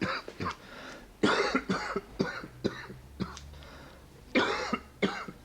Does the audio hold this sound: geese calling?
no